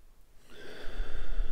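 Deep meditative breath drawn in toward the heart, starting quiet and swelling into a long, rough, airy inhale close to the microphone, with no words spoken.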